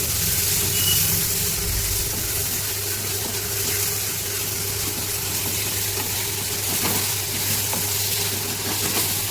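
Ginger garlic paste frying with tomatoes in a pan for mushroom biryani, giving a steady, close, continuous sizzle with a low hum underneath and no voices.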